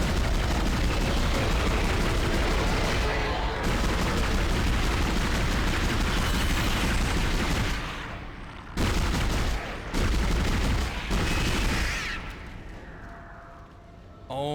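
Rapid bursts of gunfire from a video game fire almost nonstop for about eight seconds, loud and dense, then break into shorter volleys separated by brief lulls, with quieter stretches near the end.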